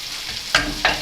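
Vegetables are tipped into hot oil for a chicken tajine, giving two quick close sizzling bursts over a steady background frying hiss.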